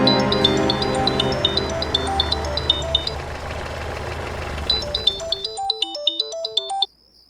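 Phone ringtone chiming in a repeating electronic melody, first under a steady engine-like drone, then alone and clear once the background drops away, ending abruptly.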